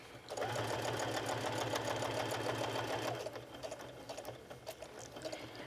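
A sewing machine with a heavy-duty needle runs in a steady rapid stitching rhythm, close by, stitching around the edges of a colorful wallet, then slows into shorter uneven bursts.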